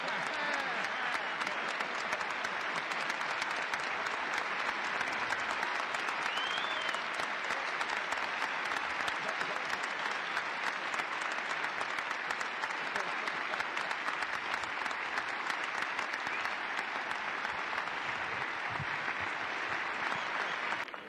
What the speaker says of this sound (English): the fans are applauding for you, Pam